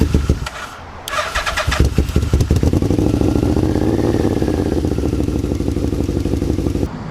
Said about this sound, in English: Now the next thing to do is just to start it up.